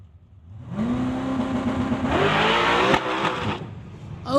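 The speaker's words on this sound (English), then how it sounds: "Single pass here for William Wood from Langley, 1992 Mustang. He's running nitrous." A 1992 Mustang running nitrous launches on a drag strip pass, its engine roaring up in pitch and growing louder as it accelerates away, then easing off near the end.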